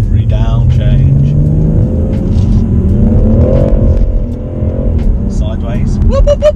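A BMW M140i engine blares loudly and continuously on the downshift, its rumbling note rising and surging through the gear changes.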